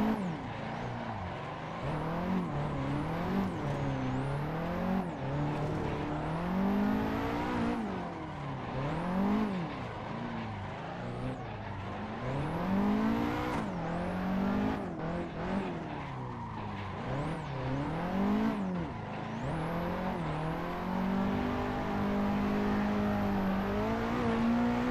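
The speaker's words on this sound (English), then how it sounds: "So yeah, as you can hear, the car is scraping along the ground constantly" Continuous racing-game engine whine from a modded Nissan 180SX S13 in Assetto Corsa, rising and falling revs, tires squealing and a constant scraping grind of the car along the ground as it drifts, loud throughout.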